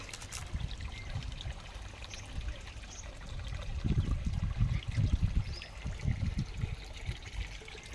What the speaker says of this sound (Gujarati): આવું જો ખળખળ પાણી વહેતા